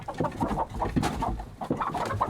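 Several chickens cluck and murmur close by in an overlapping, continuous chorus of short, throaty calls.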